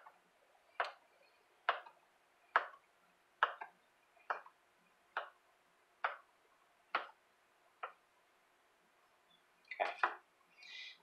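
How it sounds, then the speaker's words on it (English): A knife cutting bread rolls on a board, about ten sharp, evenly spaced chops close up, with a quick double cut near the end and near silence between them. "So I'm basically just going to cut the rolls in half."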